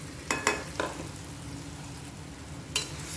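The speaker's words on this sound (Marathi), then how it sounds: "आता हा ठेचा या तेलामध्ये छान परतून असा शिजवून घ्यायचा आहे" Green chili thecha sautés in hot oil, a steady low sizzle broken by a few sharp spoon knocks against the pan near the start and again near the end, with no talking.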